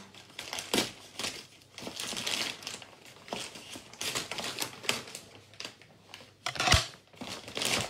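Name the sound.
opening a parcel, crinkling packaging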